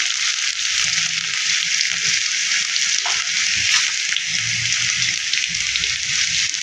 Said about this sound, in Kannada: ಶುಂಠಿ ಬೆಳ್ಳುಳ್ಳಿ ಹಾಕೋಣ ಅದಕ್ಕೆ.